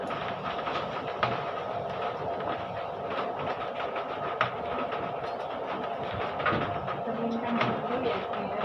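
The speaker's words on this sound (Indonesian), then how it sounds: "bajunya dimasukin mesin blower" A blower machine drying clothes keeps up a steady mechanical whir with rhythmic clattering and periodic thumps. The running noise stays close and continuous throughout.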